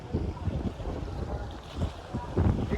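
Strong wind gusts and lapping waves at Vaitarna Dam near Igatpuri, a loud rushing roar buffeting the microphone in surges.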